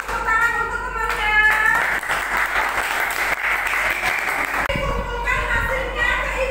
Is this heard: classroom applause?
yes